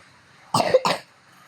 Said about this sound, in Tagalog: Sorry guys, may ubo ako.